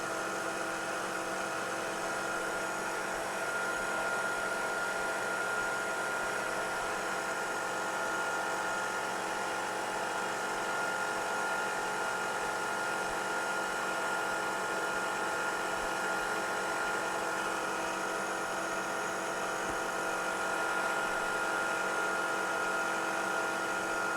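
A milling machine cuts an aluminum-style AC control adaptor plate for a Dodge Dart GT, giving a steady, continuous whine with strong tonal hum and constant vibration at even loudness throughout, with no talking.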